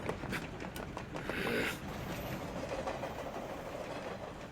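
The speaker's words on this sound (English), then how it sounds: "They jumped on a train bound for West City." A train bound for West City rolls past in a steady, rumbling roar with faint rhythmic clatter, filling the whole stretch at an even loudness with no voices.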